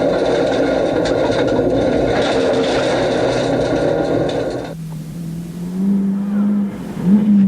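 A Mitsubishi Lancer Evo 4 rally car on a stage of the 1997 Otago Rally in New Zealand roars past on wide country roads, engine loud and revving, then drops to a lower fading drone.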